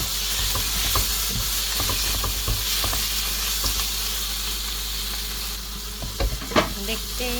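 Pumpkin leaf bhorta is stirred in a sizzling pan, with a continuous frying hiss broken by close scrapes and taps of the spoon, ending in a few sharper clinks.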